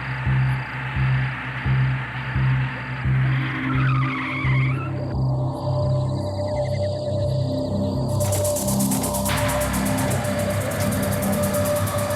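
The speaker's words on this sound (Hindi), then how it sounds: "धर्मा, अपने मालिक की गाड़ी ले आ" Car pulling up with tires skidding and screeching, a sustained rough squeal over a rumbling engine, fairly loud and close, with tense background music and no talking.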